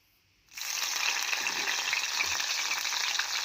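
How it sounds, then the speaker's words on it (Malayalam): Cooked beef hits hot coconut oil in a pan for a Malabar-style beef roast, and a sudden loud, even sizzle starts after a brief silence and runs without a break. "ചീനച്ചട്ടി സ്റ്റൗവിൽ വെച്ച് നന്നായിട്ട് ചൂടാകുമ്പോൾ അതിലേക്ക് വെളിച്ചെണ്ണ ഒഴിച്ചു കൊടുക്കാം എന്നിട്ട് ഈ വേവിച്ച് വെച്ച ബീഫ് ഇട്ട് നന്നായിട്ട് റോസ്റ്റ് ചെയ്തെടുക്കാം"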